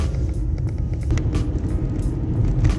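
A car drives through rain, its steady low road rumble and tire hiss continuous and close, with small bursts of spray or splash breaking through now and then.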